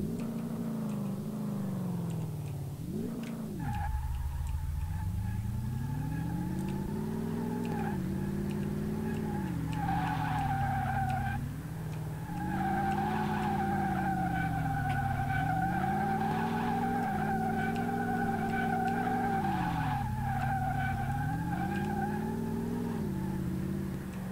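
A Ford GT40 engine in the Car Mechanic Simulator 2018 racing game drones steadily, rising and falling in pitch as the car accelerates and slows, with tyre squeal over the engine.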